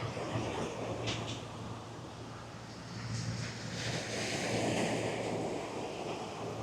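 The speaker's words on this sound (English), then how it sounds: "get blustery southeasterly trade winds blowing this time of year in the cool dry season" Blustery southeasterly trade winds at Ellis Beach in the cool dry season, a soft continuous rush of wind buffeting the microphone over low surf.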